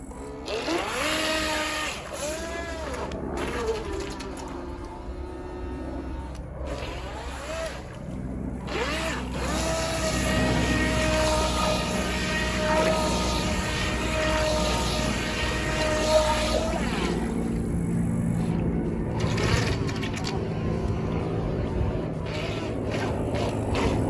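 A remote-controlled toy speedboat runs in water, its small electric motor whining steadily with rising and falling pitch as it moves, over a constant background of splashing and water wash.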